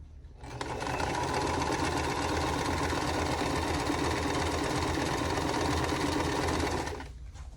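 A sewing machine stitches the opposite corners of quilt block pieces in one steady, unbroken run of close mechanical whirring and rapid needle knocking, lasting about six seconds before it stops.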